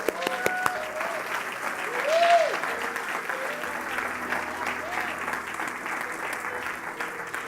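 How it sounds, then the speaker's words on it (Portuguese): Sustained applause from a church congregation at worship, a thick continuous patter of clapping that swells briefly near the middle, with a few voices faintly audible beneath. "Aplauda!"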